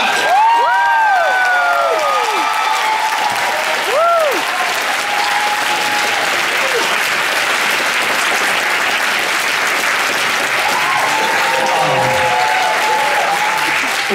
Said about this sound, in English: a big round of applause, please, for John Taylor!